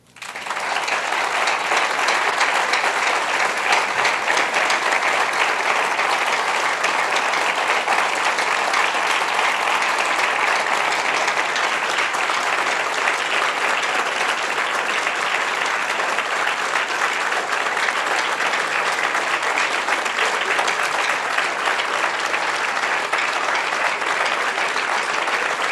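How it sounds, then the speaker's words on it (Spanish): Church congregation at a worship service gives long, loud applause, a thick continuous roar of many hands clapping that starts suddenly and stays intense and even for nearly half a minute. "Quiero que den un fuerte aplauso a Dios."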